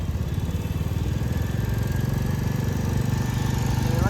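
A Royal Enfield motorcycle engine runs steadily and loud with a rapid mechanical tick from worn or badly adjusted tappets riding over the low throb throughout, close to the machine with no talking.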